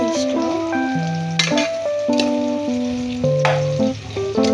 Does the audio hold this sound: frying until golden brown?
yes